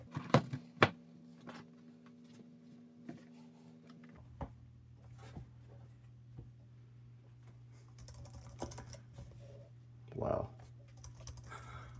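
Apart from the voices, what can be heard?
typing on a 2008 titanium MacBook Pro keyboard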